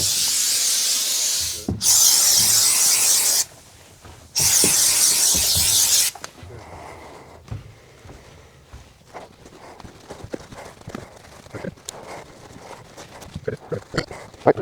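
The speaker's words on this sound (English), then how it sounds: "you're gonna spray this side and then wait 30 seconds" Two loud hissing bursts of a 3M spray adhesive can on Thinsulate insulation in a van, each lasting a couple of seconds, followed by quieter rubbing and handling noises.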